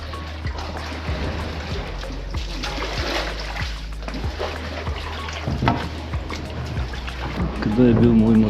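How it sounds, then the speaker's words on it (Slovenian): Kayak paddling along calm, crystal-clear water through flooded underground tunnels and chambers, with soft recurring paddle splashes and drips echoing at close range over steady low rumble, plus voices talking. "Med veslanjem po mirni, kristalno čisti vodi sva z Lilico raziskovala podzemni labirint z"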